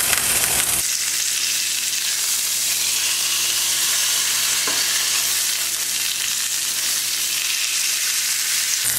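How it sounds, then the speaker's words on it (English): Pesto-coated pork tenderloin sears in a hot pan after being turned, giving a steady, close sizzle that holds at an even level throughout, with no voices. "Get that other side a nice sear."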